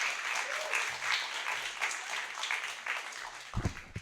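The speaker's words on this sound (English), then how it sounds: "Round of applause." An audience at a comedy open mic night applauds with dense, moderately loud clapping throughout, a few voices and some thumps mixed in toward the end.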